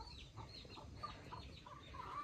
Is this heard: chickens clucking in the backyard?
yes